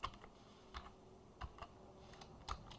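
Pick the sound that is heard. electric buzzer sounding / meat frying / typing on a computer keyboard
typing on a computer keyboard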